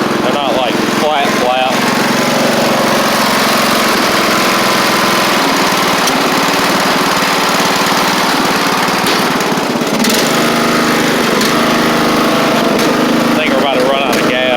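A Craftsman LT3000 lawn tractor with engine trouble runs steadily and loudly up close while being driven, its constant mower-engine drone filling the whole stretch with brief voices over it.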